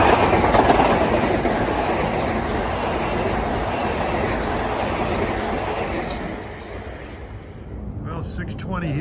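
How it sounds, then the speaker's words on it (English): Metro-North train 1268, bound for New Rochelle, passes on a cold day with a steady heavy rumble and rhythmic wheel clatter. The sound stays loud and near throughout, then eases slightly toward the end. "Here's 1268 headed for New Rochelle."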